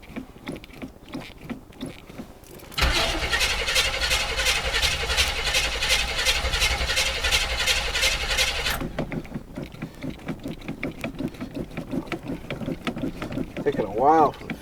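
A 1981 Chevrolet Blazer engine cold-starting: after a quieter lead-in it catches and runs with a loud, steady, rumbling idle for several seconds, then drops back to a softer background.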